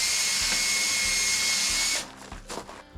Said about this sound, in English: I'm going to drill a hole here first in the wood